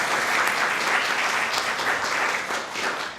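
An audience at an Australian Senate committee sitting on foreign affairs, defence and trade applauds with steady, moderately loud clapping that holds throughout, with no talking.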